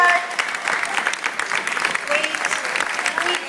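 A crowd applauds performers after a Rag Mopp and Ninjammerz show, a dense, sustained clapping that fills the whole moment with a few cheers mixed in.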